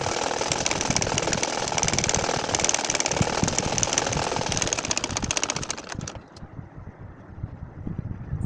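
A sewing machine stitches a nakshi kantha quilt with a fast, steady mechanical rattle for about six seconds, then stops, leaving quieter background noise.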